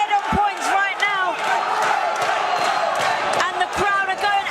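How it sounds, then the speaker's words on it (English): Boxing crowd roaring and cheering through the final round of the Alfie Gaskin versus Morgan Sellamuthu fight, a dense continuous wall of voices with whoops and shouts, a commentator talking over it. "the crowd are going absolutely wild"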